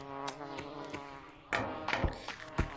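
Bees buzz in a video game's spring bee update, a steady insect drone with louder sting-like bursts near the end over background game music.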